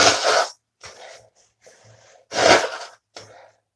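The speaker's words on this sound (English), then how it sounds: "I have to blow my nose." Two forceful nose blows, close up, with softer snuffling sniffs between them and no talking.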